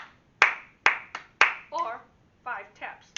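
Sharp, close handclaps sound one at a time in a sing-along of the children's song Bingo, about four distinct claps spaced evenly, with a voice talking between them.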